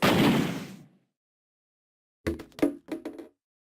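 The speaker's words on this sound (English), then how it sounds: "The blast must have shattered it." Blast shattering ice on a door in the 999 video game: a loud, long burst of noise that fades over about a second, then after a silence a quick cluster of sharp cracking, clattering impacts, with no talk.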